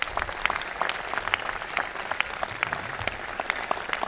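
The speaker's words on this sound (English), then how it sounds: "Give these parents a round of applause." Audience applause for the parents at a graduation ceremony, a steady patter of many hands clapping at moderate volume throughout, with no voices over it.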